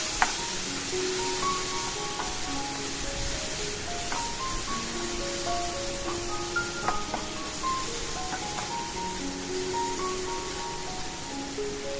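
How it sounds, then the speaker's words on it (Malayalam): Tomato masala for a cauliflower dish sizzles in a frying pan while being stirred, a continuous soft hiss with occasional scraping, with gentle melodic music underneath and no talking. "കുറച്ച് സമയം കൂടെ ഒന്ന് ഇളക്കി കൊടുക്കാം."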